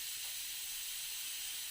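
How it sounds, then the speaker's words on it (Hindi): A pressure cooker on a home kitchen stove vents steam in a steady, soft, breathy hiss that stays faint and even throughout, with no voices. "जब तक कि कुकर का प्रेशर निकलता है"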